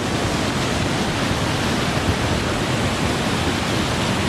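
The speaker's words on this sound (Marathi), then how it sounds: "पाणी कंटिन्यू जाते ना, तर थोडा फोर्स पण आहे पाण्याला" Water rushes forcefully through a natural pool near Lonavla, a loud, steady, close broadband roar without pause.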